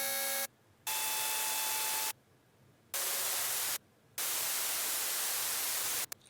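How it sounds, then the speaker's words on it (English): Serum synth wavetables under heavy frequency modulation dissolving into loud hissing white noise, repeated in several bursts with brief silent gaps, faint tonal lines fading as the sound turns fully noisy. "it starts to go just into noise because it's FMing so weirdly that it just turns into white noise."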